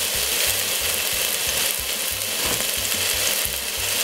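White onion and a pinch of curry powder fry hard in a pan, a dense loud sizzle with a rapid rhythmic mechanical rattling underneath, close and continuous.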